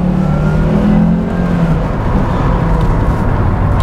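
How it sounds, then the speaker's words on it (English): A 2007 Volvo XC70 with a lean-running engine accelerates at full throttle, its steady loud engine roar rising in pitch without a break for about four seconds, with no voices. "we're going to roll into the throttle and floor the throttle"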